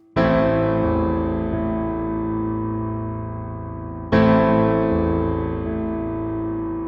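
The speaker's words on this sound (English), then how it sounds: "We start playing the octaves, and then the fifth, and then the octave again." Sustained left-hand piano bass notes struck twice, octaves and a fifth over the held root, each chord ringing out and slowly decaying, no talking.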